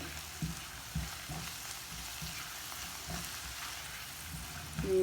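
Sliced bitter gourd fries in a pan while salt, turmeric, red chili and coriander powder are stirred in, producing a steady close sizzle with soft scraping stirs and no talk.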